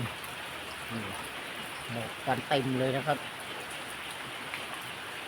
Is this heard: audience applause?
no